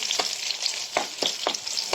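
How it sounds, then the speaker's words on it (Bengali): Garlic and onion fry in hot oil in a heated kadai for tempering. A bright, crackling sizzle is overlaid with several sharp clacks of a stirring spoon against the pan, heard alone without any voices. "এই যে রসুন আর পেঁয়াজ দিয়ে দিলাম বাগারের জন্য।"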